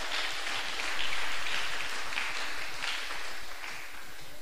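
Congregation applause during a Saturday church sermon: dense, sustained clapping from many people that holds steady throughout, without speech.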